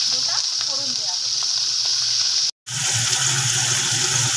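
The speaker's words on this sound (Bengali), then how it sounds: "তেলের মধ্যে এবার কালো জিরে আর কাঁচা লঙ্কা গোটা ফোড়ন দেওয়া হবে" Nigella seeds and whole green chillies tempered in hot oil left from frying small mourola fish give a loud, steady, close sizzle that continues with only a brief cut partway through.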